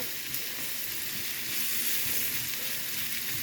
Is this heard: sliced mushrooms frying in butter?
yes